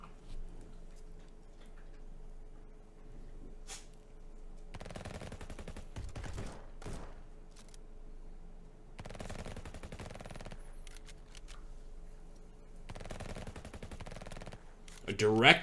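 Distant gunfire in the World War II video game Frontline: machine-gun bursts and scattered shots in several clusters over a low ambient rumble, faint overall, with a sharper sound at the end.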